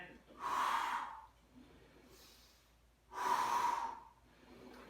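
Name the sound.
huge inhale during exercise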